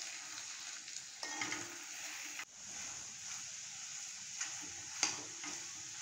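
Egg and capsicum fry quietly in a pan while being stirred, a soft steady sizzle broken by a few scraping strokes and light clinks of the spoon against the pan, close up and low in level.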